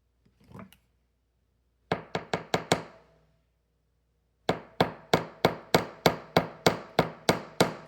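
Metal paisley earrings are hammered in quick bursts: five sharp taps, a pause, then about eleven evenly spaced strikes, close and crisp in a quiet room.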